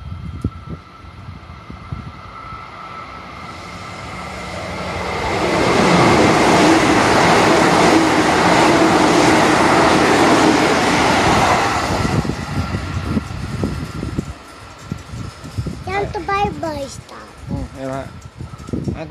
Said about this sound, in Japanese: まもなく1番線を列車が通過します。